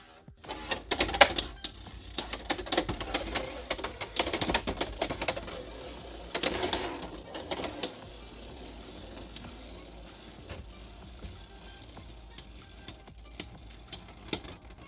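Beyblade X tops spinning in an arena, giving off a rapid irregular ticking and clacking with sharp collision clicks, fairly quiet and alone.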